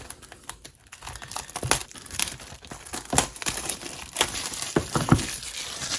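A box of Upper Deck The Cup hockey cards is opened by hand up close, with crinkling wrapper and cardboard, tearing and tapping sounds in irregular bursts, quiet between handling moments and without speech.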